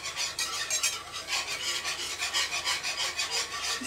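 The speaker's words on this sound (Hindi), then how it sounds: "इसको धीरे धीरे मिलाते रहो।" White sauce for pasta being stirred slowly in a pan, with a steady rhythmic scraping and rubbing of the spoon through the thick sauce, close and fairly loud and continuous.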